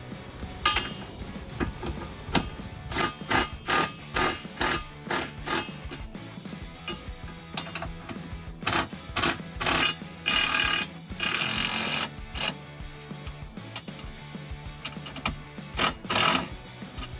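Bolts being run down on BMR super low profile chassis jacking rails fitted to a 2015-2022 Mustang: repeated sharp metallic clicks and ratcheting bursts in uneven rhythm, close and fairly loud, with no talking.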